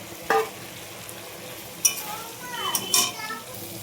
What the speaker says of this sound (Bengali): আমি এবার আলুটা দিয়ে কষিয়ে নেবো